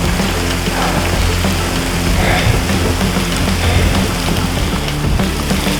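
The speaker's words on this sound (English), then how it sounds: "It's not just rain now, we're getting hail." Steady heavy rain mixed with hail pelts the ground outdoors during a hike on Mount Keogan near Okanagan Falls, BC, a dense, continuous hiss with low rumbling wind noise and no voices.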